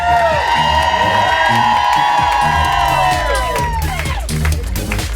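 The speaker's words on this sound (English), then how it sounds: "Everybody, big round of applause for Jose Bolanos" A live comedy club audience in Portland cheers and whoops loudly for a comedian taking the stage. The dense, sustained roar has shouted voices, high whistles and clapping mixed in.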